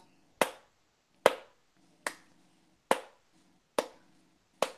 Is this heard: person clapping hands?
yes